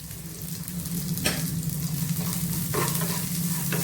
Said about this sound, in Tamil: எண்ணெய் ஊற்றி நம்ம கடுகு உளுத்தம்பருப்பு எல்லாம் போட்டு தாளிக்கணும்.